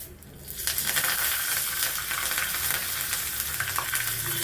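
Mustard seeds and curry leaves dropped into hot oil for a ridge gourd dal tempering, bursting into a loud, crackling sizzle that starts suddenly and continues steadily up close.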